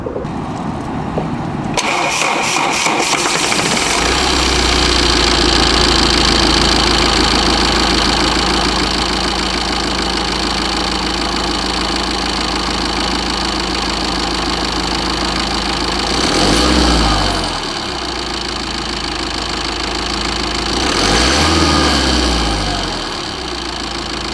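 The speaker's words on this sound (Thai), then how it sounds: "มาฟังเสียงเครื่องยนต์กัน" A Tata Xenon 2.2 Dicor four-door diesel pickup starts with a short crank and then idles with a steady, loud, close rumble. The revs briefly rise and fall twice later on.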